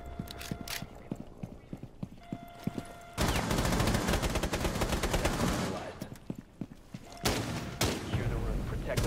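Rapid bursts of shotgun and automatic gunfire in Rainbow Six Siege, loud and close, with sparse clicks and footsteps before a dense volley that pauses and resumes.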